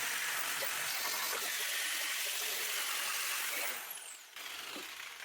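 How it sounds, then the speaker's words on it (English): An antique Black & Decker grinder fitted with a knotted wire wheel scours underseal off the chassis of a Nova GTE, a loud, steady, harsh abrasive roar that runs continuously before dipping briefly near the end. "I'm going to use this antique Black & Decker grinder with a knotted wire wheel to remove the rest of it under seal"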